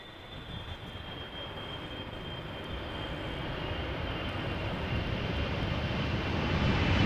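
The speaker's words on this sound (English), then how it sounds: "these two, particularly with the GE90s, have the potential to make quite a loud rumble when fully applying the reversers" A KLM Boeing 777-300ER with GE90 engines landing at Amsterdam Schiphol: a steady broad jet roar and rumble that slowly swells in loudness over several seconds, heard from a distance with no talking.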